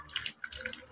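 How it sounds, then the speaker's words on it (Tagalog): Water splashes and pours over coins being rinsed clean of ketchup, a short close burst of running, dripping water. "Buhusan ko ng tubig para matanggal yung mga margaha."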